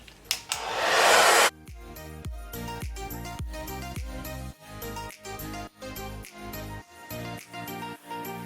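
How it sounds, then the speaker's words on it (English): A hair dryer on the hot setting blows on a burgundy wig, starting with a loud steady whoosh, then a humming motor airflow that swells and dips in a steady rhythm as it moves over the hair. "I'm gonna blow dry it on hot because I'm in a rush"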